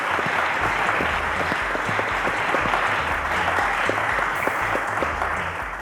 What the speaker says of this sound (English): A round of applause to Solomon,